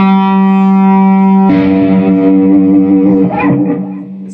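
A sustained distorted note on a Karl Sanders Dean Flying V electric guitar with a scalloped fretboard rings loud and close, then shifts to a new pitch midway and decays with reverb, no talking.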